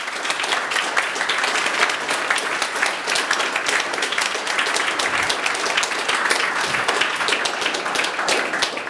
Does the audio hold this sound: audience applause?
yes